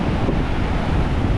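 Ocean waves at a beach on Boracay, right in front of a resort room, during typhoon weather, a loud, continuous surf roar heavily mixed with wind buffeting the microphone.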